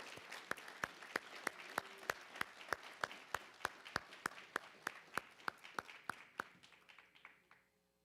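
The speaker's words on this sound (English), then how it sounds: "How about another round of applause for Kitty, everybody?" Applause for an award winner at a Department of Public Safety annual awards ceremony comes through as evenly spaced, sharp, distinct claps, quiet and steady, thinning and fading at the end.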